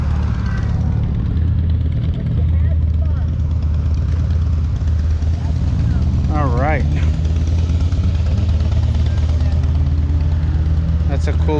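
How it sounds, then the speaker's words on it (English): Harley-Davidson motorcycles idling outside a lodge, a loud steady low rumble throughout, with a brief rising whine partway through. "The bikers are hanging out with their Harleys."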